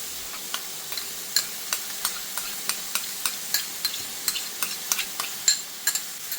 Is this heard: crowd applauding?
no